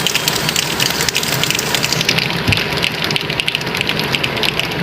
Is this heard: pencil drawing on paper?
no